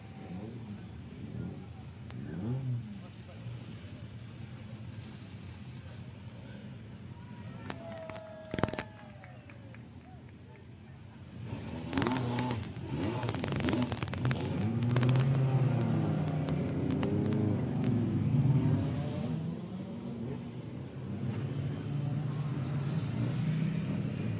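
Historic race cars of the Maurice Trintignant and Jean-Pierre Beltoise grid at the Circuit des Remparts 2022 build into a loud, sustained engine roar as they accelerate, under continuous public-address commentary.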